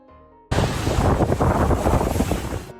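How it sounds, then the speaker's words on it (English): A loud rush of crashing water and wind roar bursts in suddenly and continues steadily, like heavy waves pounding close by a small boat at sea. "look at this little boat fighting against massive waves"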